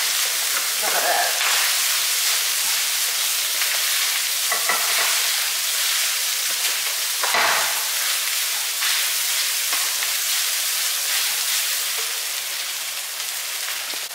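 Squid fried rice being stir-fried in a pan: a loud, steady sizzle runs throughout, broken by a few scraping stirs of the spatula, with no talking.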